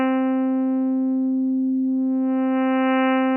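A sustained Arturia Pigments 3 synth tone with a stack of bright harmonics holds steady while a harmonic tilt control reshapes it, the upper partials briefly thinning in the middle and then returning; clean and loud, with no voices.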